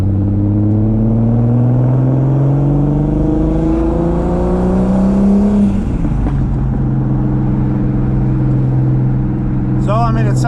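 Turbocharged VR6-swapped B5 Audi A4 with a manual gearbox pulling hard from inside the car, engine pitch climbing steadily, then dropping at a gear change before rising again, loud and close.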